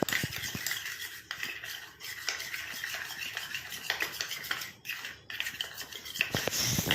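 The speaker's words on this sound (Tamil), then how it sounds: "இப்போ கட்டிகள் இல்லாமல் நல்லா மிக்ஸ் பண்ணி விட்டுக்கோங்க." A spoon stirring a mustard oil hair mixture in a bowl, rapid close scraping and clinking of metal against the bowl in an uneven rhythm, with no speech.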